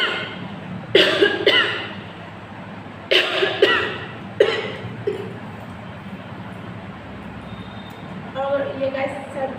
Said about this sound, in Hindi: मुझे खांसना पड़ रहा है